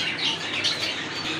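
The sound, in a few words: pigeons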